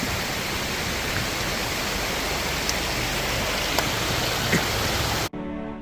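Steady broadband roar of a waterfall at Mahabaleshwar in the rainy season, heard continuously up close and loud, with a few faint clicks on top, cutting off abruptly near the end.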